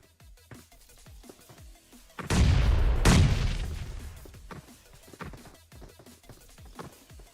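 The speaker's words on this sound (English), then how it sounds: "going to throw a nade over here maybe, or maybe that's going for Felipe" Grenade explosion in PUBG Mobile during a competitive esports match, a single loud boom with a long rumbling decay standing out amid quieter game sounds and clicks.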